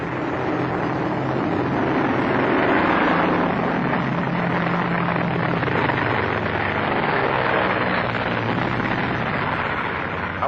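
A propeller airplane flying in a 1939 film, a steady loud broadband engine roar with a low droning hum, continuous throughout with no talk.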